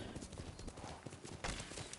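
Horse hooves gallop in the video game Ghost of Tsushima, a rapid, continuous clip-clop of close, loud hoofbeats in a driving rhythm.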